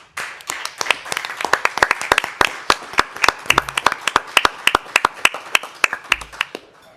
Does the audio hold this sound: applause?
yes